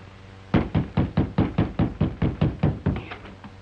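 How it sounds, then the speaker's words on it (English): Knocking on a door in a 1936 western film, a steady run of about ten firm, evenly spaced raps, close and fairly loud, with no talk over them. "Knock again, louder."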